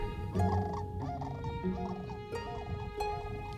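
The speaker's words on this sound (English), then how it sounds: "The greater Sandhill crane is Oregon's tallest bird." Greater sandhill crane, a tall gray bird with a red crown, calling at a wildlife refuge in late winter: several rolling, harmonic calls that repeat over about four seconds, fairly close and clear above steady outdoor background.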